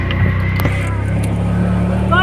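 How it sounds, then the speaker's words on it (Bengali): Steady hum of a shared local auto rickshaw engine while riding toward Bakkhali, close and continuous, with breezy road noise and people talking over it. "আমরা অটো, লোকাল ভাড়া অটোতে উঠেছি, আর আবার এখন বকখালির দিকে রওনা দিয়েছি"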